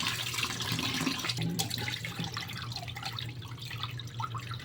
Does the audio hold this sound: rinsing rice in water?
yes